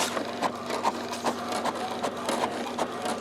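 An HP inkjet printer running a refilled HP 63/62/61 cartridge prints with a quiet, rapid mechanical chatter, regular clicking pulses over a steady whir, close by and fairly soft.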